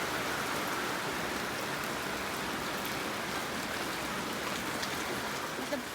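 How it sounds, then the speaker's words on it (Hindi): Heavy rain drums steadily on a rooftop, a dense, continuous hiss with no pauses, loud and close throughout. "छत पे आवाज़ आ रही है तेज़।"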